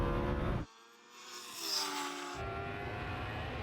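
A Lamborghini Huracan Turbo and a Kawasaki H2R accelerate off the line in a drag race, a loud engine roar that cuts out abruptly, returns as a rising whine, then swells into a strong, sustained drone.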